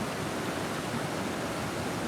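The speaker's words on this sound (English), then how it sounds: "River is raging right now. Nice little waterfalls." A raging creek runs over small waterfalls on a mountain trail, giving a steady, dense rush of water that stays at a constant level throughout, with no voices.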